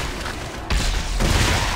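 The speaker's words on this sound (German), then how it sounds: "ich kann damit auch schießen" A weapon firing in the sci-fi shooter Dead Space 3: loud, dense, continuous game blasts that swell sharply partway through, with no talking.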